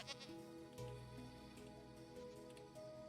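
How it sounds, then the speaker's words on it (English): Goats in Minecraft with the Wolfhound Medieval texture pack give short wavering bleats against soft background music, several calls in quick succession. "Here's the goats."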